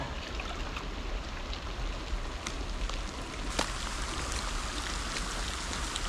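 Heavy rain pours in a dense, steady hiss over water and surfaces during spring trout fishing in Ontario, broadband and unbroken, with a few sharper drips standing out.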